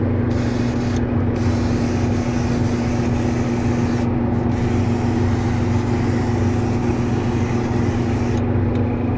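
An airbrush fed by a California air compressor sprays paint in a steady, loud hiss with no talking, briefly interrupted a few times as the trigger is released, over a constant low compressor hum.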